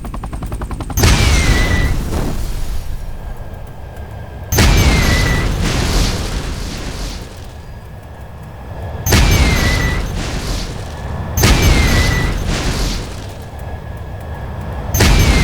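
Rocket explosions from the video game Judgment Day, four loud booming blasts spaced roughly evenly, each with a sharp crack and a rumbling tail.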